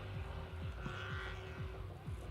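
Drift car at a drift pit in Irving, engine held at high revs with repeated rising and falling surges as it slides, loud and continuous throughout.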